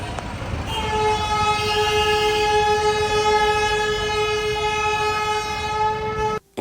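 A toy train on a railway line sounds a long, steady horn blast of several layered tones, loud and close, holding for about six seconds over a rumbling rail background before cutting off.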